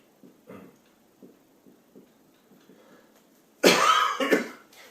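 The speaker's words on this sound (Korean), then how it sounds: "말을 많이 하다 보니까 기침이." A lecturer coughs in a classroom: a few light throat clears early on, then a loud burst of two or three harsh coughs near the end, close and alone without speech.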